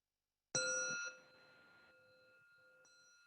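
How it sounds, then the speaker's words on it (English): A single meditation bell is struck once to close a guided breathing exercise, ringing out clearly and decaying into a long, sustained shimmering tone, with a faint second touch near the end; no talking over it. "I'll be ringing the bell."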